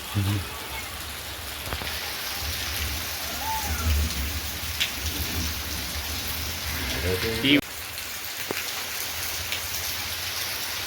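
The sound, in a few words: heavy rain falling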